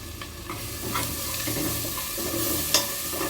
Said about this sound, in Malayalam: കുറച്ച് ഇഞ്ചി വെളുത്തുള്ളിയും കൂടെ അരച്ച മിക്സ് ഉണ്ട് അത് ഇതിനകത്തോട്ട് ചേർത്ത് കൊടുക്കണം